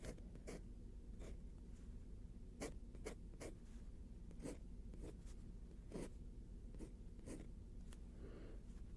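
G nib dip pen drawing on paper, very quiet close scratchy strokes in short separate bursts with pauses between them over a faint background hiss.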